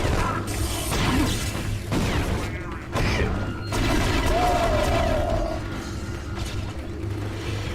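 A grenade blast in the Conduit Wii shooter game, a loud broadband boom amid mechanical clanks and creaks, followed by ongoing in-game noise and a rising whistling tone.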